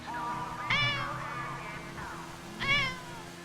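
A cat meows twice, a drawn-out call followed by a shorter one, fairly close with a low hum in the background.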